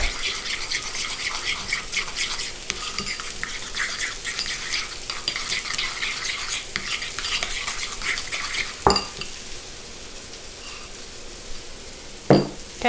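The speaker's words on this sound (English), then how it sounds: "Get my spoon back and I'll just give that a little mix." A spoon scrapes and stirs food in a sizzling pan, a steady close scraping over frying hiss, broken near the end by two sharp knocks of the spoon against the pan.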